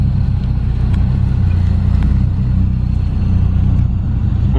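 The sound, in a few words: cars pulling in at a gas station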